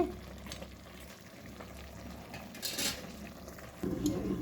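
Country chicken curry simmering in a pot without added water, a steady low bubbling and sizzle with occasional brief stirring scrapes, close and fairly quiet.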